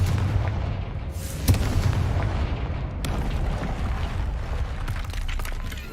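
Confringo fire spell blasting against a magical barrier in a video game: a sustained rumbling, booming roar with sharp bursts near 1.5 and 3 seconds, loud and continuous, without speech.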